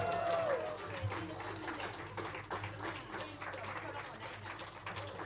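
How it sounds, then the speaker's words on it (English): Conference audience clapping for guests at a climate and higher education event, a steady patter of many hands in a large room, moderately loud, with a speaking voice briefly over the start. "let's clap for Kenyans who are here"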